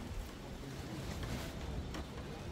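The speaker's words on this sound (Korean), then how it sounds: "바람이 오늘 엄청 세요" Strong wind gusts buffet the microphone outdoors on a mountain in Jeongseon, a steady, loud rushing roar with no speech.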